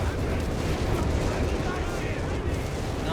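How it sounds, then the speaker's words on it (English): Whiz-bang rocket artillery barrage in Company of Heroes 3, a dense, distant rumble of continuous blasts and rolling fire under a caster's commentary. "Another whiz-bang barrage"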